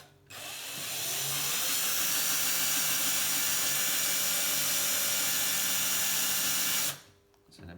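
A power drill fitted with a 1.5mm bit bores into a gravel touring bike part during a bikepacking build, a loud, steady high whine held for about six seconds before stopping abruptly.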